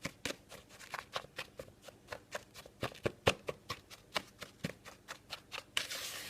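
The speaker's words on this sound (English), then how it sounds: "We're just folding in that coconut oil." Coconut oil is worked by hand into a dry, powdery bath bomb mixture, giving close, soft crunching and rustling strokes in a quick, regular rhythm, with one louder scrape near the end.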